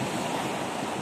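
Strong waves pounding the shoreline at the Baliguian boulevard in Zamboanga after Typhoon Tino, a continuous broadband roar of surf and wind with no voices.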